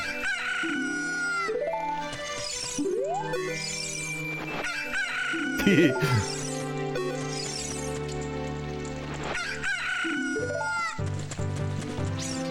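Cucco chicken crowing in the video game Zelda: Ocarina of Time, a loud rooster-style cock-a-doodle-doo repeated several times over bright game music, steady throughout.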